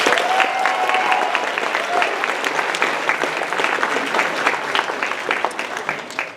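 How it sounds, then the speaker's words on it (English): Dense, sustained applause from a large convention audience in a hotel ballroom at an anime convention's closing ceremony, steady throughout and tapering slightly at the end. "please give a round of applause for New World from Final Fantasy"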